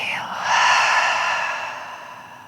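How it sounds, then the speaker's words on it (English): A single deep breath during a relaxing yoga cool-down, a soft drawn-in inhale giving way to a long, sighing exhale that slowly fades, close and intimate. "One more inhale. And exhale."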